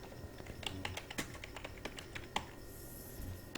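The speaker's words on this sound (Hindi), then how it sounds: "यहाँ पर हम टाइप करेंगे" A computer keyboard is typed on steadily while entering text into a spreadsheet, producing quiet, irregular clicks and taps at close range with low background hiss.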